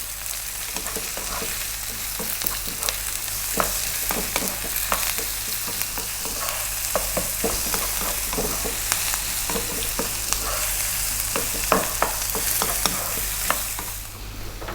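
Potatoes and finely chopped onion fry over high heat with chili powder, a constant loud sizzle broken by repeated sharp scrapes and clatters of stirring, with no voices.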